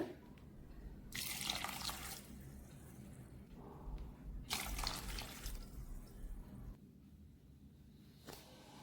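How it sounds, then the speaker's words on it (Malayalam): Water is poured from a glass onto raw rice set to soak for dosa batter, arriving in two or three splashing bursts, each a few seconds long, close by and with no talk. "ഇതിലേക്ക് അഞ്ച് ഗ്ലാസ് വെള്ളം ഒഴിച്ചു കൊടുക്കണം"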